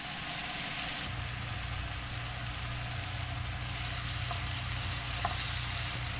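Seasoned pieces of food fry in a pan with a soft, continuous sizzle and a low steady hum, and a faint tap or scrape now and then.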